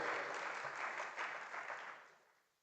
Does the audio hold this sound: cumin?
no